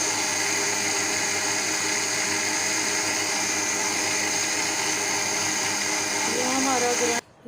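An electric grinder jar whirs steadily as it blends yogurt and gram flour into a smooth batter for kadhi, the motor running loud and continuous before cutting off abruptly at the end.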